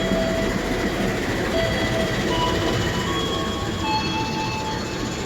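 An express passenger train on the Jakarta–Surabaya line runs at speed with a steady, dense rumble of wheels on rail and faint squeals, heard from inside the carriage.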